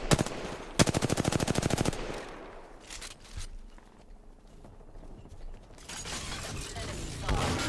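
Rapid automatic gunfire in the battle royale game Apex Legends during a ranked match, a loud fast burst of shots for about two seconds, then quieter game ambience and a second swell of noise near the end.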